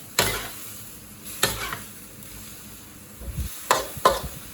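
Broccoli with fatty pork is stir-fried in a pan, with a soft constant sizzle broken by several sharp scraping stirs of a utensil against the pan, close and fairly quiet.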